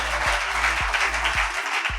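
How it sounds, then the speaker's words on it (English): An audience at a school debate championship grand finale gives a dense, steady round of applause, with a low thump repeating about every half second beneath it. "I want you to give them a big round of applause"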